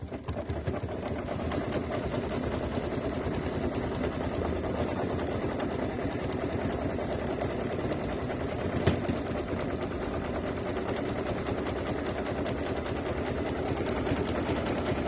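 A sewing machine runs steadily through a long stitching pass, a continuous even mechanical whir at constant loudness with no pauses and no voices.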